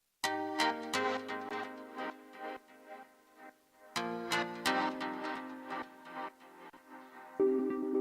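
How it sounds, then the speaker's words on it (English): Bright plucked synth notes with quick attacks and short decays play a sparse melodic pattern, quiet and alone. "here we have a pluck sound, which just sounds like this."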